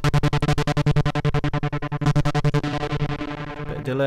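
Modal Electronics Craft Synth with its distortion effect engaged plays a fast run of buzzy, harmonically rich pulsing notes, about eight per second, loud and alone with no talking.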